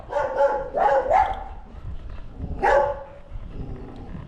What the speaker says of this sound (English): There's a angry dog.